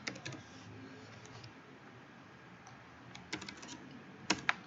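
Keys tapped on a computer keyboard while code is entered, a few scattered close clicks at the start and a short quick burst near the end, with long quiet stretches between.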